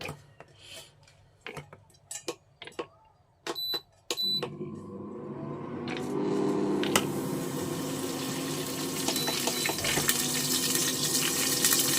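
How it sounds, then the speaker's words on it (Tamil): Coconut oil poured for cooking makes a steady liquid stream that runs for several seconds, close and even, after a few sharp clinks and knocks of kitchen utensils. "வாங்க, எண்ணெய் ஊற்றிக்கலாம். நான் தேங்காய் எண்ணெய் கோகனட் ஆயில் யூஸ் பண்ணுறேன்."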